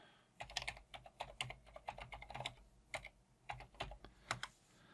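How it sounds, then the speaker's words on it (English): Rapid, irregular keystrokes on a computer keyboard as a password is entered, close and fairly quiet, with short bursts and pauses and no talking. "Put in Kate's password"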